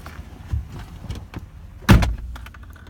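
A 2012 Ram 1500 pickup door shuts with one solid, close thunk near the two-second mark, preceded by soft shuffling and light knocks as someone climbs into the cab.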